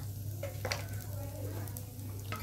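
Egg bhurji with a pinch of pepper being stirred in a pan, soft scraping and light sizzle over a constant low hum, with faint tapping of the utensil against the pan.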